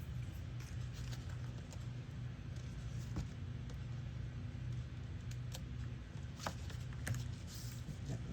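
A car drives past an intersection outside a quiet indoor room. It is a faint, low, steady rumble with scattered light clicks and rustles nearby.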